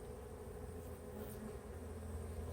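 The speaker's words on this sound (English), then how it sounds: "Now, they're slowly fanning, so new ones are going in." A honeybee swarm fans at the entrance of a hive as bees go inside, making a steady, close, dense buzzing drone that holds without pause.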